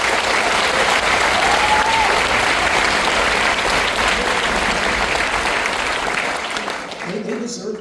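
A large audience at a high school honor band concert applauds loudly and continuously, a dense wash of clapping that tapers off near the end as it fades.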